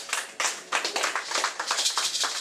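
A church congregation claps steadily after a prayer, dense overlapping handclaps building into continuous applause with no voices standing out.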